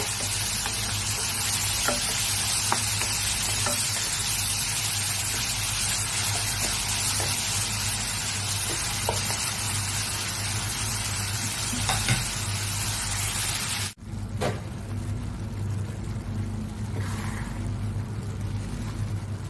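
Tomatoes fry in a pan for tomato rice, giving a loud, constant sizzle with intermittent scraping as a ladle stirs them, briefly dipping then continuing close and steady.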